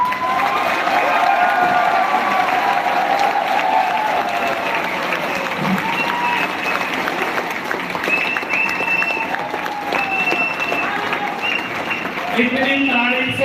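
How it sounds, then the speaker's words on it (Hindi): An anniversary celebration audience clapping without music, sustained dense applause with cheering and shouts from the crowd throughout, loud and continuous. "एक बार बिना म्यूजिक के ताली चाहिए।"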